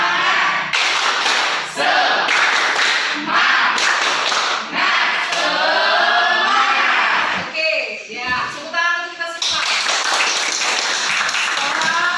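A group of students performs a rhythmic spirit clap routine at a morning class session, with loud, patterned bursts of hand clapping and short pauses between phrases, mixed with chanting voices throughout.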